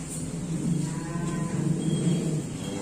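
A Simmental cattle calf gives a low, drawn-out moo, close and clear over a faint background hum.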